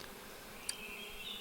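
Bees from the APICO beekeeping game drone in a soft, continuous buzz. A brief high chime rings out partway through.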